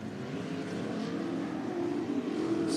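Race cars roaring through turns at Cottage Grove Speedway in Oregon, a continuous droning engine rumble with a slowly rising pitch, fairly distant and steady.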